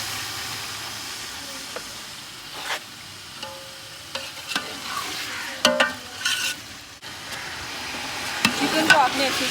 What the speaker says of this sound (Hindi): चिकन को आपने अच्छे से भून लेना है कुछ इस तरह से